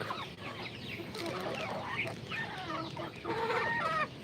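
Rhode Island Red chickens cluck and chatter softly in a farm coop, several birds overlapping in busy, irregular calls over a low background hum, no talk.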